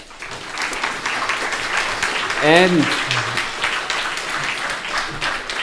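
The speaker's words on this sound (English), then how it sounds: "Already a warm applause, please." Warm applause for a special guest at a lecture, steady clapping filling the room beneath a speaker's voice.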